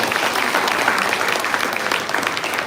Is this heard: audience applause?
yes